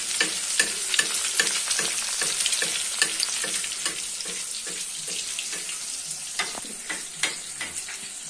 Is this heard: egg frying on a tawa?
yes